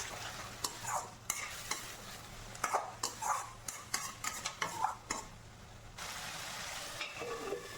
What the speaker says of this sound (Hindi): अब बस चिकन को अच्छे से भूनना है।